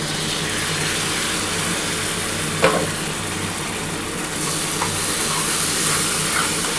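Mustard paste sautéing in oil in a pan for tangra fish mustard curry, with a steady broad sizzle and one sharp utensil knock partway through, loud and close, no voices.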